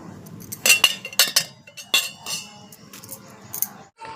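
Glass cups, part of a six-piece set, clink against each other in a few bright, close knocks in quick clusters, ringing briefly over faint background noise.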